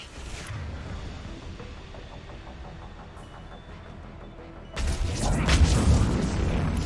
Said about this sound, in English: Missiles are hot. Missiles away.